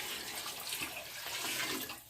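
Water pours from a pitcher into a KUPPET portable washing machine onto drained clothes, a soft, continuous splashing gush that runs steadily and tapers off at the end, with no talking.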